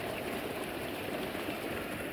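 Irrigation water runs steadily through a channel in a wheat field, a constant close rushing and gurgling flow with no breaks.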